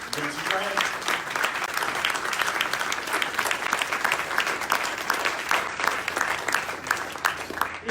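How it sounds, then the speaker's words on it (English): Audience applause for UNC Charlotte award winners at an award ceremony, a dense, steady wash of many hands clapping that carries evenly through the whole stretch. "let's give a round of applause"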